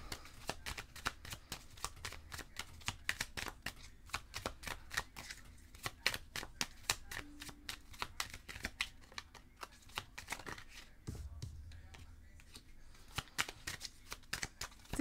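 Tarot message cards are shuffled by hand in a rapid, steady run of crisp riffling snaps that continue almost throughout, close and fairly quiet, with little else in the background.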